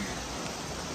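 Rain pours down at night during a walk to dinner in Costa Rica, a dense, even wash of hiss that stays constant and close for the whole moment with no voices.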